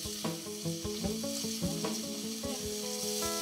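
Calamari cooking with other ingredients in a pan on medium heat, a soft steady sizzle with clinking and scraping stirring strokes repeating throughout, close and moderately quiet, no voices.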